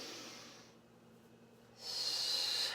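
A slow, audible breath drawn in laterally into the back and sides of the ribcage during Pilates-style thoracic breathing, a soft airy hiss that fades to near quiet, then a stronger rushing exhale.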